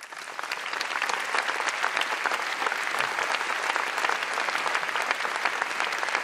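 A hall audience at a Katholikentag podium discussion in Münster applauds steadily, a dense even wash of clapping that swells quickly and holds to welcome a professor onto the stage.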